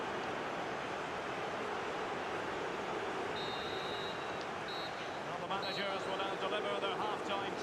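A stadium crowd in the FIFA 20 video game whistles and roars in a broad, continuous wash of noise, with a few thin, sustained whistle tones rising above it.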